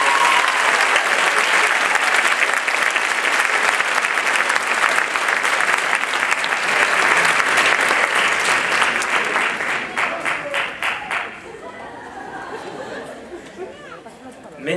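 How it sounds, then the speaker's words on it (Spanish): Sustained audience applause for a speaker at a graduation ceremony, loud dense clapping with chatter mixed in, thinning out and fading to scattered claps near the end. "un fuerte aplauso"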